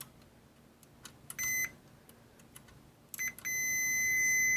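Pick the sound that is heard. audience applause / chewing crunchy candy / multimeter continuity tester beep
multimeter continuity tester beep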